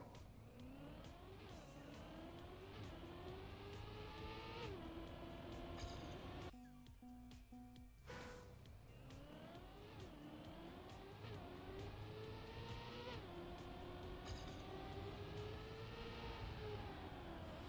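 A car racing at high speed in a driving game, its engine whining and rising through repeated gear shifts, loud and close, with a brief gap where the tone cuts out before it resumes.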